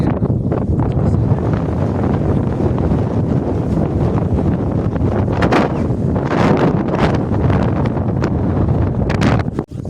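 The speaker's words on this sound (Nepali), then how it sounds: "कस्तो हावा चलेको अब हौ" Wind blowing hard beside a pond in Spain, a steady rough roar buffeting the microphone for the whole stretch with gusty surges and no clear voices.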